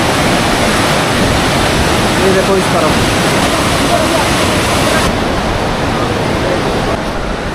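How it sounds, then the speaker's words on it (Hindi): A river rushes far below a mountain gurdwara at Manikaran, a steady broadband roar of flowing water that fills the whole clip while someone speaks briefly over it. "साउंड आ रहा होगा आपको नीचे नदी का"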